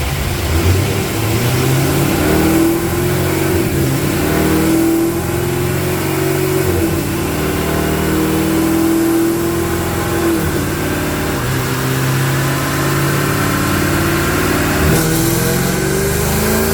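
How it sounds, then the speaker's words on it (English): A cammed Chevy SS engine on a dyno, running straight pump gas, revs hard and continuously for the whole stretch. The exhaust note rises and falls through sustained pulls, loud and close, with no talking. "Currently on the dyno with the SS right now."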